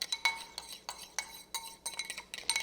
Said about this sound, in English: you're going to take your eggs and just simply whisk them up in the bowl